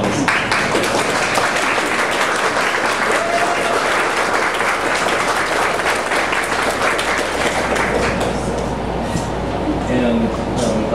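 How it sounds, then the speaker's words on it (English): Indoor audience at an entertainment show clapping continuously for everyone on stage, a dense, loud applause that holds steady for about ten seconds, with some crowd voices mixed in. "Now please give everyone a round of applause."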